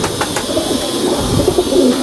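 Pigeons coo softly and steadily in a loft setting, an older Sialkoti breed; low murmuring coos repeat through the whole stretch under a bright, continuous background hiss, with no one speaking.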